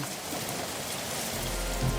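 Rain pours down suddenly as a dense, steady, close hiss of drops on surfaces, loud and continuous, with a deeper rumble swelling near the end and no talk.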